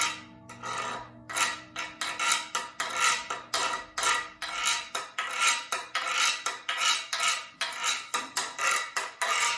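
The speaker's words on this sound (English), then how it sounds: "We have a guiro. Now this is another favorite of mine, and it sort of looks like a fish." A fish-shaped guiro is scraped with a stick in quick repeated strokes, each a bright ratcheting rasp, in a steady rhythm of close, dry scrapes with no talking.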